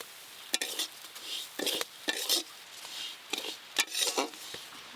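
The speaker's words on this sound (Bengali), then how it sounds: "গুঁড়ো মশলা দিয়ে ডালগুলো আর বেশিক্ষণ নাড়া যাবে না, তাহলে গুঁড়ো মশলা পুড়ে যাবে।" Moong dal being stirred with ground cumin, chilli and turmeric in a pot: a run of scraping, swishing spoon strokes in irregular bursts with faint sizzling between them, close by and with no talk.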